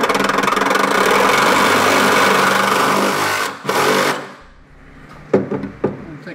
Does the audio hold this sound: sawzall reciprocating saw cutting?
yes